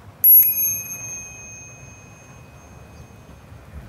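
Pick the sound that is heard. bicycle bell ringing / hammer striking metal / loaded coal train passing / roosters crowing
bicycle bell ringing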